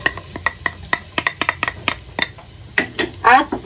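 Garlic going into a pan with about a tablespoon of oil, heard as a run of sharp utensil taps and scrapes against the pan with brief sizzling bursts near the end, close up and fairly loud, with no talk.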